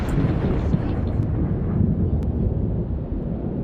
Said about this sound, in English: I really hate how loud the thunderstorms are in this game.